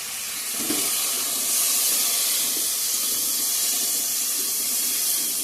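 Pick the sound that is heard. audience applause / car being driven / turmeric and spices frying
turmeric and spices frying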